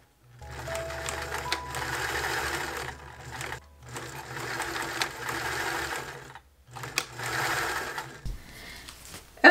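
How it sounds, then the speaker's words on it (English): A sewing machine stitches elastic along the edge of bias tape on a vintage dress, running in three steady bursts of rapid whirring separated by brief pauses, close and clear. "stitch over the edge of the bias tape, catching that elastic in that stitching"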